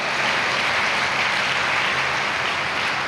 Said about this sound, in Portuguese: Uma salva de palmas para todos os que vão ao grupo de oração a Vila Real